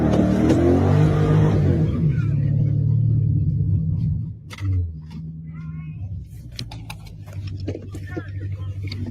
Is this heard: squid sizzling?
no